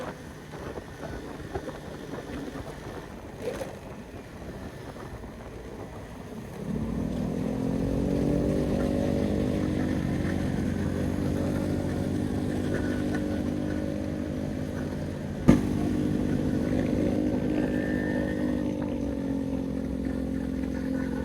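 A Suzuki Satria 120 two-stroke motorcycle engine drones steadily while riding on a flyover, rising after a few seconds into a sustained buzzing hum with wind rush; one brief sharp knock midway.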